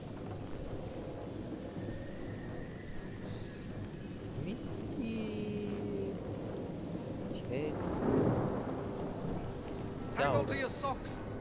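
A rainstorm with thunder in the fantasy role-playing game Divinity Original Sin: steady rain hiss with low rumbling thunder swelling midway, plus faint game effects.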